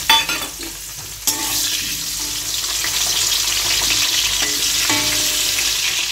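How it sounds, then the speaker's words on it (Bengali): Potatoes frying in a pan give off a loud, continuous sizzle, with scraping stir strokes and a sharp clatter early on, up close, with no talking. "প্রথমে আলুগুলো ভেজে নেবো"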